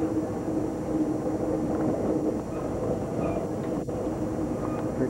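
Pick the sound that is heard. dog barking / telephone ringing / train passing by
train passing by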